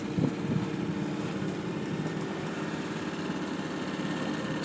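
Power boat motor droning steadily past on a bay with a sailboat race nearby, a continuous low engine hum mixed with wind buffeting the microphone throughout.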